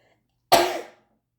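One short, sharp cough or throat-clearing burst, close and fairly loud, fading quickly into silence.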